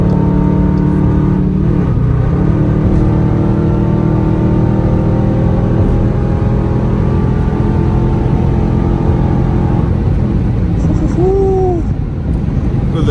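Steady, loud engine roar inside a 2021 Dodge Durango RT with straight-pipe exhaust, climbing under hard acceleration and shifting pitch around a downshift, with voices talking over the drone throughout.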